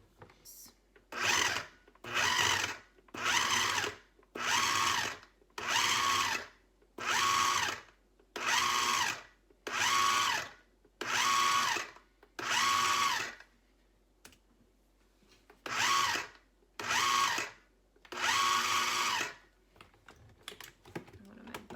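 Food processor cutting pieces of cold butter into a flour mixture for a peach crostata crust, heard as a series of loud, evenly spaced whirring pulses of one to two seconds each, pausing briefly midway before more pulses.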